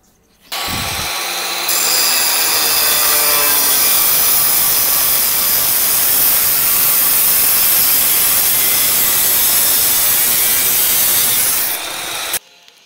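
Metal part of a Rajdoot motorcycle exhaust being cut, producing a loud, harsh, continuous grinding rasp that starts abruptly, holds steady for about twelve seconds, then stops, with no talking.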